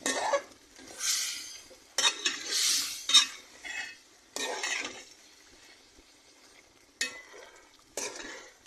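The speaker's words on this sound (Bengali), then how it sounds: "তখন আমি এটি নেড়ে চেড়ে দেবো ভালো।" Chicken pieces with spices being stirred in a pan, with scraping utensil strokes in separate bursts, some close and fairly loud, with gaps of quiet between them.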